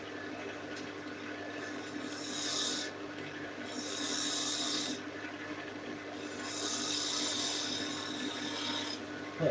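A larger gouge carving and shaping a wooden body in a workshop, heard as close, soft scraping cuts in several separate bursts with brief pauses between them.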